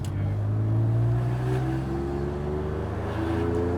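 Car engine driving along at a steady moderate pace, a close, even drone with a slowly rising pitch and no talk.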